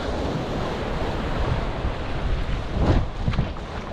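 Surf breaks along a shoreline in a steady wash, with one louder wave crashing midway, accompanied by wind rumbling across the microphone and no voices.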